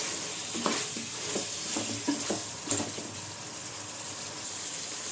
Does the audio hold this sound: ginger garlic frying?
yes